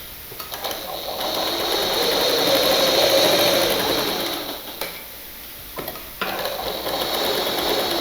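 A sewing machine stitches a seam joining two blouse pieces, whirring steadily and close for several seconds, then slowing and briefly pausing before it runs again.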